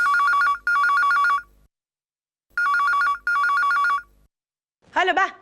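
A telephone bell rings in two loud double bursts separated by a pause, followed by a brief voice at the end.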